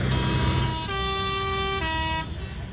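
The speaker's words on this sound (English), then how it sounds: "It sounded some very loud air horns in the background there." Loud air horns sound at Pembrey racing circuit, a couple of long, blaring tonal blasts that come one after another and change pitch, standing out over a rumbling vehicle background.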